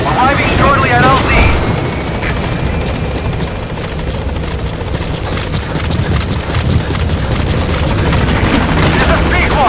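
The Pequod helicopter in Metal Gear Solid V: The Phantom Pain arrives at a landing zone with a loud, continuous rotor roar and engine whine, while voices talk over the noise.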